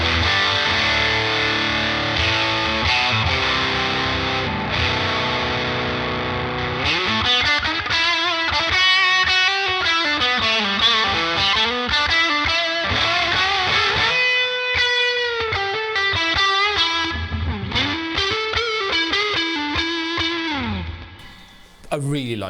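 Fuzzy, distorted electric guitar from a Jazzmaster run through a Sonicake Fazy Sandwich fuzz pedal, loud and sustained with strummed chords and gritty mid-gain tone throughout, ringing out at the end.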